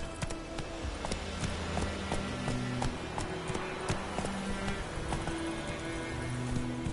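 Geralt's horse Roach galloping in The Witcher 3: Wild Hunt, a steady run of hoofbeats over a dense, continuous game soundscape with tonal music-like layers.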